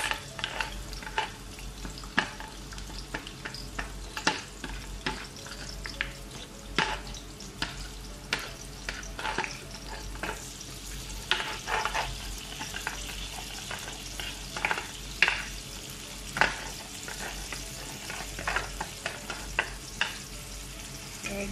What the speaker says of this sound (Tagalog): Siyempre, sibuyas muna. Gisa muna natin yung sibuyas.